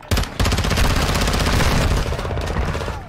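Rapid automatic gunfire from a machine gun in the video game Call of Duty, a loud continuous burst of closely spaced shots lasting about three seconds with no talk.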